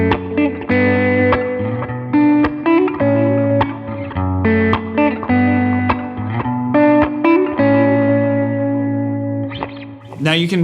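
Electric guitar through a POD Go multi-effects unit with a tap-tempo delay, played as distorted chords and notes with repeating echoes, loud and close throughout.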